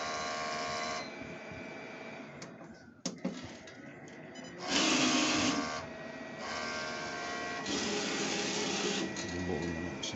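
A HONJET sublimation printer with replacement DX11 printheads runs a printhead cleaning cycle, its steady mechanical whir and buzzing motor passes rising louder in bursts, with a brief clack midway, under quiet background talk.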